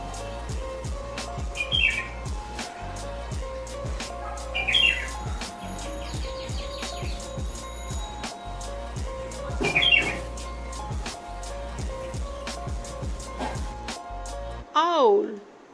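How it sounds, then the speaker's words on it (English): Bulbul calls ring out as brief, bright chirps every few seconds over a steady background hum, ending with one louder call. "Bulbul."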